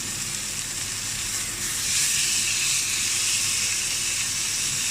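Chateaubriand beef tenderloin sears in a hot pan with a steady, loud broadband sizzle that swells slightly midway, with no talking.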